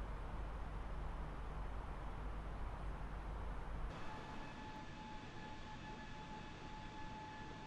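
Steady, broad engine roar fills the cabin of a larger-than-usual airliner on a Dublin to Prague flight, a constant droning rush with a faint tonal whine and a slight shift in tone midway, no voices.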